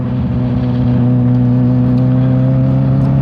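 A 2019 Kawasaki Ninja 1000 motorcycle engine and exhaust rumble loudly and steadily at close range, a deep, even, sustained tone throughout without any speech.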